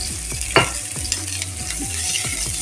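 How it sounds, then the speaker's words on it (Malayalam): Shallots and green chillies sauté in hot oil in a pan for fish curry, a steady close sizzle broken by scraping stirs and one sharp clatter, no voices. "പച്ചമുളക് ഇട്ട് വാട്ടുകയാണ്."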